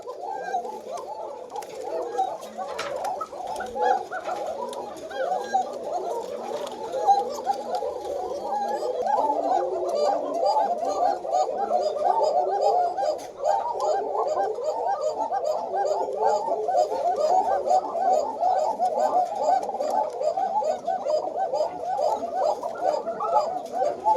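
A male Koka pigeon coos repeatedly in a steady rhythmic series of deep, rolling calls, close and clear over a faint background of other birds, continuing throughout.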